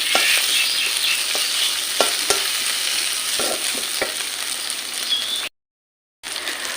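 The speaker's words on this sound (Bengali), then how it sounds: "দিয়ে দেবো লঙ্কার গুঁড়ো, ভালো করে মশলা কষে নেব।" Spices sizzle and frying steadily in hot oil for a Bengali mutton curry with poppy seed, with repeated scraping stir strokes and a brief silent gap near the end; no talking.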